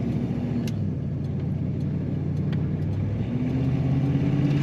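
A 1975 Ford Mustang II Ghia in pristine condition idling with a steady, deep engine rumble that holds even and close throughout, no voices present.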